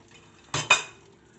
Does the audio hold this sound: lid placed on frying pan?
yes